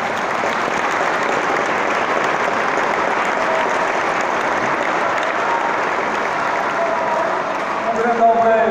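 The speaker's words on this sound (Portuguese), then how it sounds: "Uma salva de palmas para ele," Sustained dense applause fills a dinner gathering at a Portuguese municipal campaign event, steady and loud throughout, with faint voices emerging near the end as it fades.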